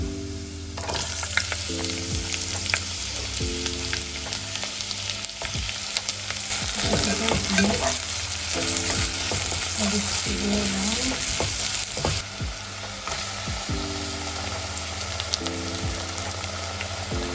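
Onions fry in a pan with a dense, continuous sizzle and crackle, close up, joined by occasional stirring knocks and scrapes and a faint tonal hum in the background.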